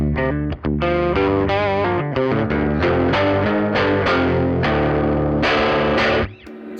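Electric guitar played through a Peavey Studio Pro 50 1x12 solid-state amp with real spring tank reverb, loud and continuous, a run of strummed and picked chords with a short break near the start and a reverb tail fading at the end.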